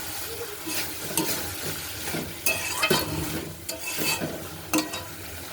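Gobindobhog rice stir-fried in a pan with sautéed vegetables, giving a steady sizzle broken by repeated scraping strokes of a spoon against the pan, close and fairly loud with no talking.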